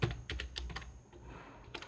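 Fingers type on a computer keyboard while code is entered into a Python editor: a quick run of close, crisp key clicks that thins out to a few scattered taps.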